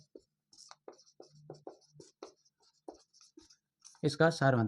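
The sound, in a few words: writing on a board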